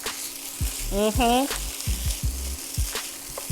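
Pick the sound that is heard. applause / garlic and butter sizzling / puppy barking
garlic and butter sizzling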